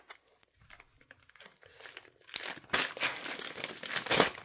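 Plastic Ziploc bag and bubble wrap being handled and unwrapped up close, starting with soft sparse rustles and building into loud, busy crinkling and crackling.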